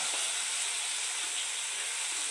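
A ground chili-garlic paste goes into hot oil with frying garlic, giving a steady, even sizzle and hiss that holds close and moderately loud for the whole short stretch, with no voices.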